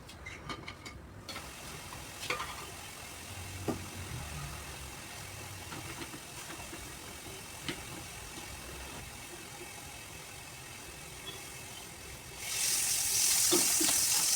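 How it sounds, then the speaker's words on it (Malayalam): Chopped onion, mustard seeds and curry leaves tempered in a pan holding a little water for chammanthi, giving a steady close hiss and sizzle with a few faint clicks, growing louder and harsher toward the end. "കുറച്ച് ഉള്ളി അരിഞ്ഞതും കടുകും കറിവേപ്പിലയും ഇട്ട് ചമ്മന്തി കടുവറുത്തെടുത്തു"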